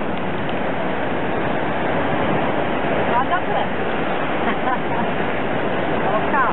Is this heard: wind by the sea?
yes